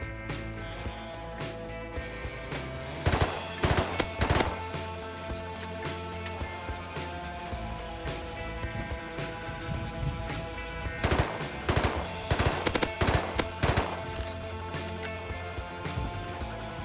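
AK assault rifle fire in the survival video game Rust, with several bursts of rapid automatic shots cracking loudly over a steady droning background, the bursts separated by pauses.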